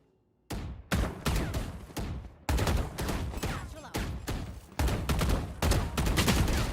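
Rapid bursts of gunfire from the video game Valorant ring out loud and close after a brief quiet start, shot after shot in quick clusters with short gaps, filling the whole stretch.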